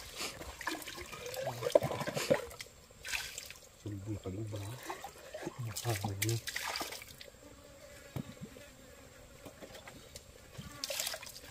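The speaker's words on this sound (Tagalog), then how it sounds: "maglagay natin ng tubig. Pangkape natin." Water is poured into a container in short gurgling bursts, with a person talking intermittently over the splashing.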